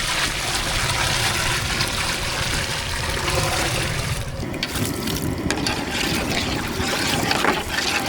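Water is poured into dissolved flour batter in a pot for koozh, a temple porridge offering, making a steady splashing trickle with faint clinks of utensils that runs on throughout.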